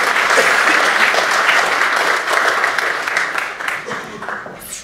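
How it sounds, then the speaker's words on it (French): Loud, sustained applause from a blockchain conference audience, dense clapping holding steady for several seconds before thinning slightly at the end. "Je pense qu'on peut vous applaudir."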